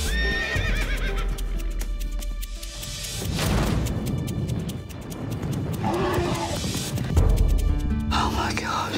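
Racehorse neighing and whinnying with clip-clopping hooves, set against a dense, loud trailer-style mix of music and effects, with voices whispering and speaking over parts of it.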